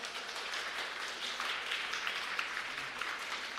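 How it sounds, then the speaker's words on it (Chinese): A church congregation clapping to welcome a newcomer at a Sunday service, a continuous soft patter of many hands from across the room, steady and even throughout with no voices standing out. "让我们欢迎你，拍手欢迎他"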